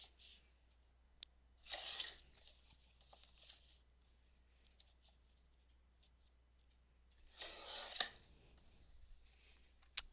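Scissors snipping through leftover paper scraps during a junk journal craft session, two short bursts of cutting separated by quiet, close and fairly faint.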